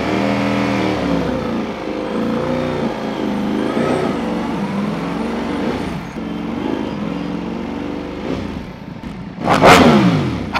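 A 2025 Ducati Panigale V4S fitted with an Akrapovic race exhaust revs and accelerates, its engine note climbing and falling in repeated surges, ending in a sharp loud burst, steady and close throughout with no talking.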